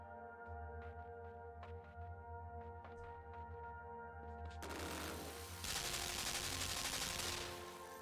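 Rapid laser fire in a video game: a string of quick sharp zaps over a steady droning hum, then a loud, dense burst of noisy blasts near the end.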